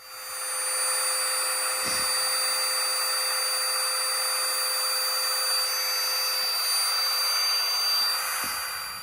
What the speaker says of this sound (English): It's a little mini pump, and can pump up the mattress in a little over a minute.